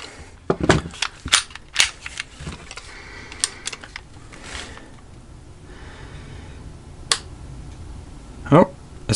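A Taurus G2C pistol's trigger is pulled against a trigger gauge, giving several sharp, close mechanical snaps and clicks spread out with quieter handling noise between them, and a voice is heard.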